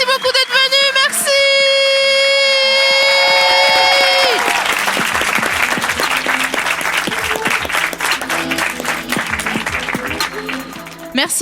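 A long held tone and a whistle give way to loud, sustained audience applause at a stand-up comedy show, a dense mass of clapping with some cheering and voices mixed in.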